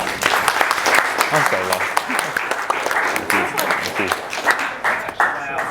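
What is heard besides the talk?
audience applause after debate speech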